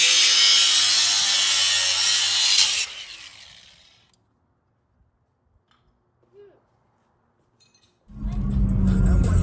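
Cutting the shock perch on a Silverado 2500HD, a loud, harsh power-tool grinding at the start that winds down into near silence, then a loud cutting burst returns at the end.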